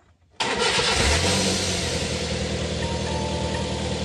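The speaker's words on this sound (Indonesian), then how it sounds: "Coba kita starter." A car engine is cranked by its starter after brief quiet and catches at once, settling into a steady, loud idle close by, on a car whose exhaust O2 sensor has been tampered with.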